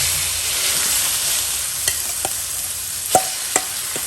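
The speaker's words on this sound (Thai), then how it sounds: "ปูนาก็จะนำมาคั่ว" Rice-field crab mixture being stir-roasted in a pan, a steady hiss of sizzling with a few sharp clicks and taps of the utensil against the pan near the end.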